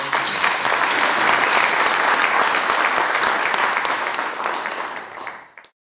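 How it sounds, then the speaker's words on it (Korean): Sustained applause from an audience at a Korean council inaugural meeting, dense and steady for several seconds before fading out near the end. "박수 한번 부탁드립니다"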